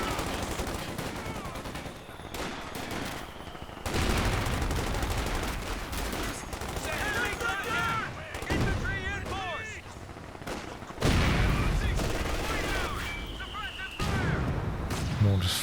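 Mortar and artillery fire in a Company of Heroes 2 4v4 battle, with rumbling booms, crackling gunfire and whistling incoming shells continuing throughout, dense and loud with shifting intensity, while someone talks over it.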